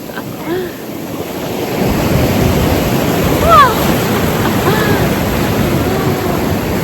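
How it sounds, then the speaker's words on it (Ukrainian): Waves of the Atlantic Ocean crash and churn at the foot of the Cabo da Roca cliffs, a loud roaring surf swelling midway, with strong wind noise on the mic and faint gull-like cries. "Які хвилі!"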